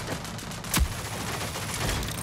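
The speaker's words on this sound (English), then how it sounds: "Oh, watch out, he's got his Gatling." Rapid, dense gunfire from a Gatling gun in the shooter game Rogue Company, a continuous loud rattle with one heavier boom near the start, no voices.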